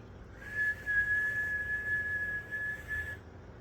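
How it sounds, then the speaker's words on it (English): A single sustained, steady whistle held for a few seconds over quiet room noise. "I've learned to whistle at dogs"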